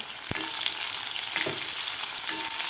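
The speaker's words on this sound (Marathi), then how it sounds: "कांदासुद्धा आपल्याला व्यवस्थित परतून घ्यायचा आहे." Thinly sliced medium onions frying in hot oil in a pan, a steady close sizzle with a few sharp scraping stirs of a spoon.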